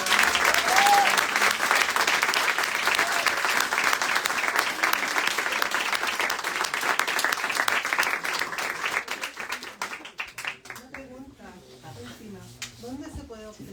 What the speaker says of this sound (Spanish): Y eso, un aplauso.